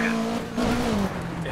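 A rally car in Dirt 3 spins out with a loud, close engine whine and skidding tires, a steady tonal drone that bends downward as it slides.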